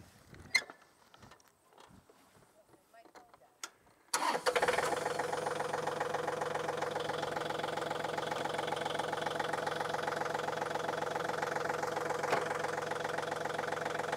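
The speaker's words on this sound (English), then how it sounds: "So I'm going to turn this on and engage the PTO, and we'll see what happens." A tractor engine starts after some faint clicks and handling noises, then runs loud and steady with the PTO engaged and spinning, a continuous mechanical rattle and drone close by for about ten seconds.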